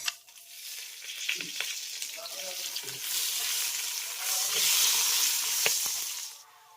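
Whole bay leaves, cinnamon pieces, cloves, peppercorns, cumin seeds and small cardamom frying in oil in a pan, a steady soft sizzle with light stirring clicks, fairly quiet and close, no talk.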